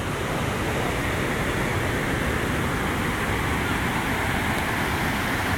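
Yaremcha waterfall roars as a loud, steady rush of falling water, a constant dense wash with no break, heard close by.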